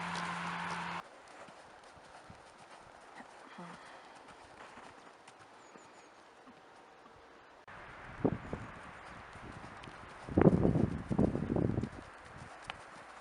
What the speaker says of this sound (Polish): już koń i przyspiesza i jedzie nie tam, gdzie ja chcę